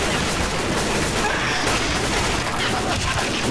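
Continuous gunfire from Left 4 Dead 2, a dense, steady barrage with rapid shots blurring together at full loudness throughout.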